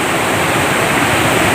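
Floodwater rushes over an overflowing bridge in heavy, cloudy weather, a loud, steady roar of churning water that fills the whole stretch without a break.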